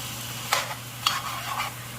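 Tomato and onions being stirred in a pan while cooking for chile colorado, with two or three short scraping stir strokes over a steady low background hum.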